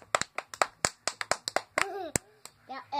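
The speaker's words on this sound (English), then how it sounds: "Now everyone clap your hands." A group claps hands in sharp, separate strikes with uneven rhythm, each clap loud and close. Voices sing and call out partway through, led by one voice joining in over the claps.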